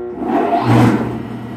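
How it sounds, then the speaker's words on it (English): A loud, industrial whirring hum from a papercrete machine's spinning electric motor swells and holds steady, close by, with a low droning tone underneath. "that's just the motor spinning"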